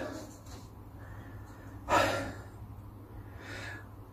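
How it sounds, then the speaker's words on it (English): Heavy breathing close to the microphone: a few slow puffs and a sharp, loud exhale in the middle, like someone out of breath. "as you can tell by the puffing and panting, I'm absolutely shattered"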